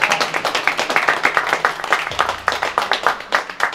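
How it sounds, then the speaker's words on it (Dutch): Audience applause for Alistair Overeem after an interview session, a smaller group clapping close by in quick, distinct, uneven claps, with a low hum in the background. "Applaus voor Alistair."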